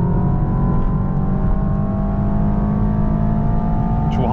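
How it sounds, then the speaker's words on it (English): A 2025 Mercedes S63 AMG with an 802 hp V8 hybrid drivetrain accelerating at full throttle on the Autobahn, heard from inside as a loud, constant engine drone whose pitch climbs steadily and smoothly. "And then full throttle."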